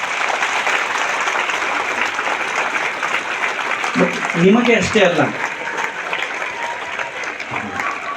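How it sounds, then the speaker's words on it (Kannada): An audience at a teachers' felicitation ceremony applauds in a sustained, dense wash of clapping throughout, while someone speaks briefly over it midway. "ಎಲ್ಲ ಗುರುಗಳಿಗೆ ಒಂದು ಸರಿ ಜೋರಾಗಿ ಚಪ್ಪಾಳೆನ ತರ್ತೀವಿ"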